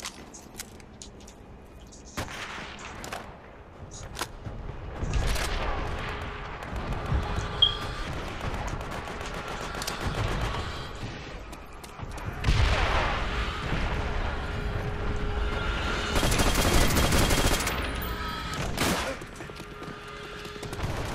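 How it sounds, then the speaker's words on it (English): Artillery fire in the WWII shooter Call of Duty: World at War, a series of heavy booms and rumbling blasts at irregular intervals, some close and loud, others more distant, with steady battlefield din between them. "Enemy artillery."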